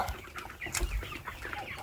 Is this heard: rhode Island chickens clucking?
yes